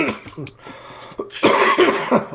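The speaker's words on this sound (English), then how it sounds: "you're coughing up a storm" A person coughing hard, a few rough close bursts mixed in with people talking.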